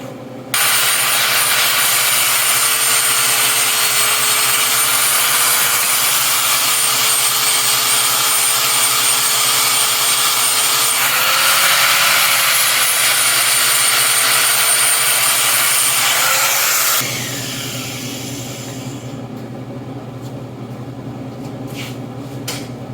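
A power tool cleaning up welds on steel seat mounts for a Jeep Wrangler YJ whines at a high, steady pitch with a constant grinding rush for about seventeen seconds, close and loud, then cuts off leaving faint clatter.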